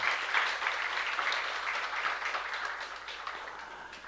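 Soft clapping from a church youth congregation during a sermon, a fairly quiet, steady patter that slowly fades.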